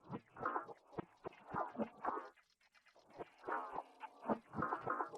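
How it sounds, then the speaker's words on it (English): Reversed, pitched percussion loops for an R&B beat, chopped into a rhythmic pattern of swelling, backward-sounding hits that briefly drop out midway before resuming, heard alone at a modest level. "So altogether, these perc loops sound like this."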